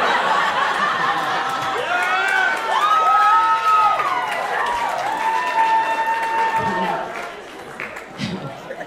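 A stand-up comedy club crowd at the Laugh Factory claps and cheers, with high whoops and whistles rising over a bed of applause that fades toward the end as voices carry through.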